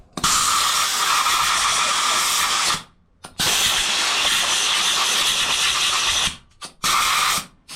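Compressed air blasts loud and close over motorcycle parts during a rebuild, in three long hissing bursts separated by brief pauses.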